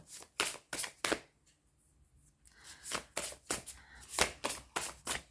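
Tarot cards being shuffled by hand, crisp riffling bursts in quick repeated bouts close to the ear, with a short quiet pause partway through.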